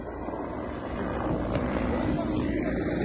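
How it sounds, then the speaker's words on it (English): An Mi-24 helicopter flies over a war zone, heard as a steady, moderately distant rotor and engine drone that holds constant throughout, with faint background voices underneath. "See the next helicopter coming up? Ми-24."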